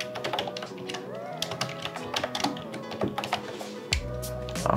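Fingers tap on a computer keyboard in quick irregular bursts of clicks, close to the microphone, over steady background music with no talking.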